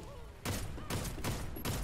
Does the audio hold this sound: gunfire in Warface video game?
yes